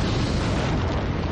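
A dense, rumbling explosion effect representing a dying giant star bursting apart, loud and continuous throughout with a broad roaring texture and no voices.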